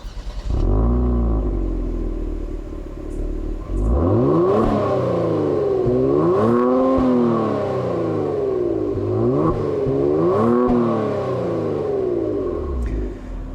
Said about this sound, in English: let's fire up the Genesis and see how this one sounds